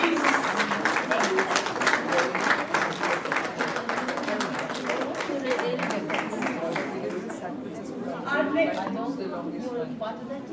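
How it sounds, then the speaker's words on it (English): Applause from an awards-ceremony audience greets a Pride of the Nation Award winner, steady clapping rolling on for several seconds and thinning toward the end, with crowd chatter and speech mixed in. "More round of applause, please."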